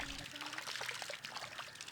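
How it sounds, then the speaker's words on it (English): Cow dung slurry poured into a shallow Azolla pond, a soft, continuous splashing trickle of thick liquid, faint and close, running steadily without pause. "Add cow dung slurry to increase the available nutrients"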